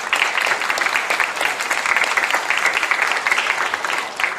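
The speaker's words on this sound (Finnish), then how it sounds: "Kiitos, aplodit." Audience applause at the Miss Twang & Twist 2022 rautalanka event in Nastola, a dense, lively burst of many hands clapping that stays loud and steady throughout.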